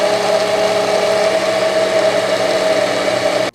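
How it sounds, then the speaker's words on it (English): A blender runs loud and steady, whirring through wet ingredients for cottage cheese cookie dough with an even high motor whine, then cuts off abruptly at the end. "I'm just gonna go ahead and blend up just the wet ingredients in the blender here"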